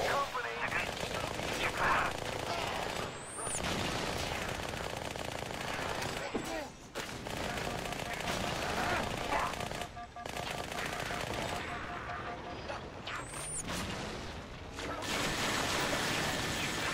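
Rapid automatic chain gun fire from the video game Halo: Spartan Assault, sustained loud bursts broken by brief gaps, with explosion-like crashes and other battle effects mixed in.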